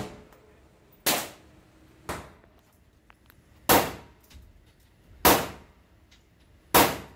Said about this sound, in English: Shooting an AR-15.